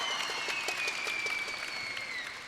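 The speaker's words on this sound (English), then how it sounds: "Again, the crowd very, very happy." At a Singapore versus Ireland netball match in the M1 Nations Cup, a crowd breaks into sustained applause with quick dense clapping and a few whistles, fading slightly toward the end.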